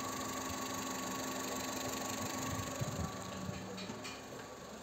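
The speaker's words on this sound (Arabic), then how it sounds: "خلينا يرودي شويه" A Seat Ibiza 1.4 16v petrol engine idling after an overhaul, with excessive oil consumption: a steady, low mechanical hum with faint rapid ticking, heard fairly close and quiet, a few soft knocks near the end.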